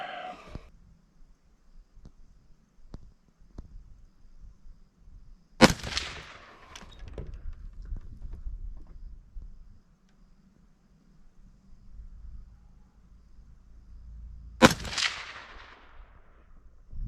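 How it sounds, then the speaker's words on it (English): A scoped rifle is fired at a bullseye target while the scope is being sighted in at maximum magnification. Two loud, sharp, close reports come about nine seconds apart, with a fainter crack near the start and quiet outdoor air between shots. "Okay, well, I've only fired 3 shots."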